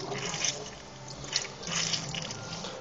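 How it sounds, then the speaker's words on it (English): Spring water drains from an opened can of tuna, a faint trickle and splash of liquid that pours in uneven bursts for a few seconds with no talk. "Open the can up. Drain all that spring water out."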